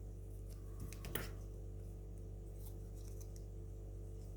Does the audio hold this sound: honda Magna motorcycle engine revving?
no